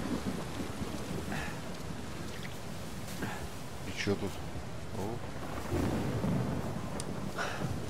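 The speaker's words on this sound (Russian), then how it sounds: "Неплохо дождик смотрится." Rain falls steadily in the video game Uncharted 4, with low thunder rumbling beneath the downpour, while someone speaks a few brief words over the storm.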